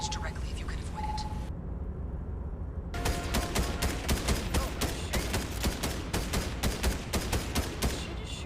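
Gunfire from the video game Disco Elysium rattles as a rapid, sustained burst of close shots following a brief hush, with a voice whispering early on.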